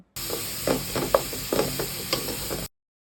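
Onion, cinnamon, cardamom and bay leaf fry in oil for a fish-head muri ghonto, with a low steady sizzle broken by several clicking stir strokes over a few seconds before ending abruptly.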